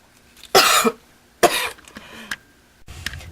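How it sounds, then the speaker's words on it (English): Several harsh, loud coughs come in separate bursts with short pauses between them, a coughing spell from someone in a quiet room while working on a paper craft. "sorry about that coughing spell"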